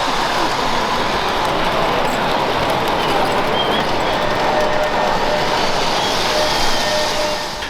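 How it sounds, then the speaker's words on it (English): Camouflage O-gauge model armored train running on a club layout at a train show, a steady dense rumble of wheels and motor continuing throughout at even loudness. "here's another fun setup by the club with a camouflage O-gauge armor train."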